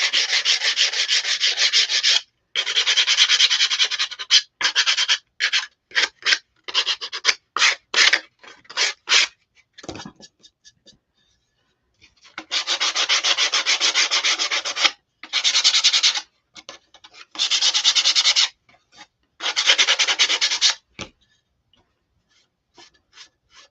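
Dry, raspy strokes of 80 grit sandpaper rubbing a wooden block, in long bursts and quick short passes broken by brief pauses, close and loud with no voices.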